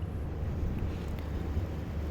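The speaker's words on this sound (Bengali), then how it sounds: "মাছ ধরার ট্রলার আসছে" A fishing trawler draws near off the Goa coast, heard as a steady, low engine rumble blended with buffeting wind noise, with no voices.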